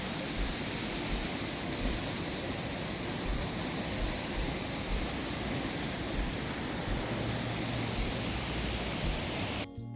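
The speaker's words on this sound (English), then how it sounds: "The waterfall is quite loud and the water is really powerful." A loud, steady roar of rushing water pours down continuously at Tegenungan Waterfall in Bali, Indonesia, a dense wall of hissing white noise with no pauses.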